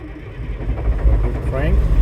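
A CAT C7 ACERT diesel engine cranks on a cold start, a steady low mechanical churning that sits close and fairly loud for about two seconds, with a voice talking over it.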